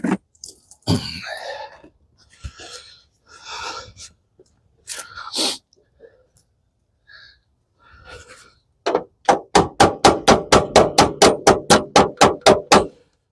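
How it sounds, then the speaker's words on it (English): Hammer blows strike a rusted, stuck part on a John Deere 445 garden tractor snowblower. A quick run of evenly spaced, sharp metallic knocks comes close up after scattered talk and a few isolated bangs. "Bigger hammer."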